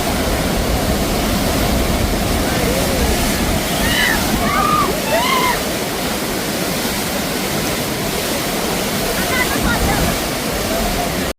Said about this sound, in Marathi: पाण्याचा विसर्ग खूप वाढवला आहे